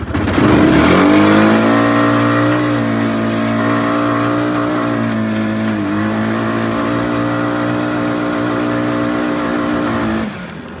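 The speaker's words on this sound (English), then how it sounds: "I'm going to go full acceleration. You'll just see how it shifts to a few gears." A Honda vehicle with a DCT dual-clutch transmission pulls at full throttle, its loud engine drone climbing steadily and dipping briefly at a couple of gear shifts before cutting off near the end.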